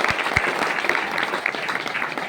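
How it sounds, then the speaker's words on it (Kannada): An audience gives loud, sustained applause for a schoolgirl's performance in a student play about Akkamahadevi, a thick continuous patter of many clapping hands with a few sharper claps standing out. "ಅದಕ್ಕೆ ಆಕೆಗೆ ಮತ್ತೊಮ್ಮೆ ಜೋರ್ ಚಪ್ಪಾಳೆ"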